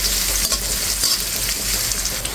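Onion, cumin and nigella seeds fry in a hot pan for a cabbage breakfast dish, giving a loud, steady sizzle with occasional stirring scrapes.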